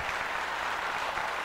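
A live-show audience breaks into dense, steady applause, a brief close wash of many hands clapping with no talk over it.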